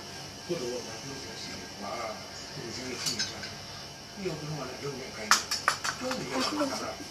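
Measuring spoons and other metal utensils clink and clatter as they are handled close by, with a cluster of sharp chinks near the end. Someone talks throughout.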